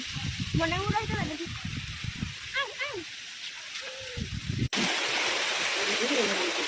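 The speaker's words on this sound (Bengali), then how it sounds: "আজ অনেক সময় নিয়ে বৃষ্টি হলো" Steady village rain in Gopalganj, Bangladesh hisses throughout, loud and close, with birds chirping and a voice speaking briefly over the downpour.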